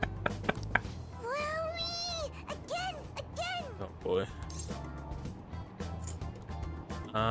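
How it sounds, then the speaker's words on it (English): A stuffed toy cat meows when its head is pressed in the video game Persona 5 Royal, several rising and falling meows in quick succession over game music and other background sound. "It meows when you press on its head."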